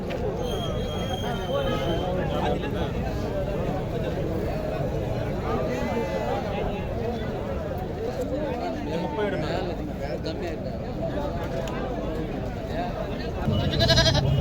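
Sheep at a busy village livestock market near Nellore, bleating amid a steady hubbub of crowd chatter, with occasional nearer bleats over the babble and someone talking close by.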